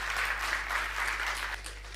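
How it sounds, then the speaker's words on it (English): An audience applauds a speaker at a conference session, a steady dense wash of clapping that runs throughout and eases slightly near the end, over a low hum. "please give a round of applause here for Luca"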